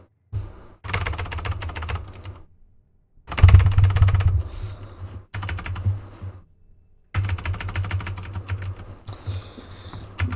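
Computer keyboard clattering in rapid bursts while playing Bendy and the Dark Revival, dense fast keystrokes in several stretches separated by short silent pauses, close and fairly loud.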